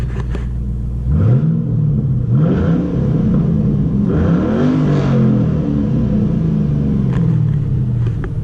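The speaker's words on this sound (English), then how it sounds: "give us some revs from in here for you guys" A 2005 Ford Mustang GT engine idles, then is revved repeatedly, the pitch climbing and falling in several loud, close bursts before settling.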